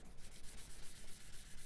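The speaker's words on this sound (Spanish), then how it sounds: "Y vamos a ir lijando esto." Wet sandpaper is rubbed over a Seat 600 gauge part with water spray, making soft, quiet, rhythmic back-and-forth scratchy strokes, close up and alone.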